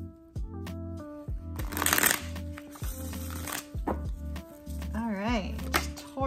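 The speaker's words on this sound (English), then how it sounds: "for some reason I felt a need to shuffle yet again" A deck of tarot cards is shuffled in a couple of quick riffling bursts, close and crisp, over soft background music with low repeating tones.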